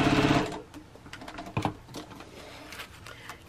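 A home sewing machine stitches foundation paper piecing for a quilt block, a fast loud mechanical whir in the opening half second, then scattered clicks, taps and handling noises of fabric and paper.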